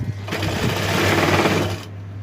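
A sewing machine stitching a straight seam runs in a fast, steady whirring rattle for about a second and a half, close and loud over a constant low hum, then stops.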